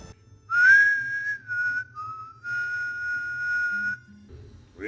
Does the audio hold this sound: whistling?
yes